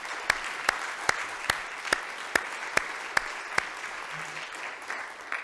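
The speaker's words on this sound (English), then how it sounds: "Another round of applause" Applause at a plenary session of a Cochrane Canada symposium, a steady wash of clapping from an audience with a series of evenly spaced sharp clicks running through it.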